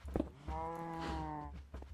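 Cattle lowing in the Minecraft video game: one drawn-out, steady moo with clear harmonics, held for about a second between short soft thumps and faint game ambience.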